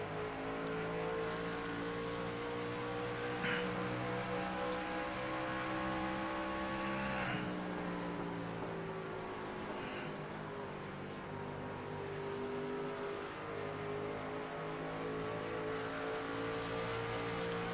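Race cars in the iRacing video game, their engines droning steadily and loudly throughout, with one car losing grip in the turns; the engine pitch shifts sharply around the midpoint as gears change.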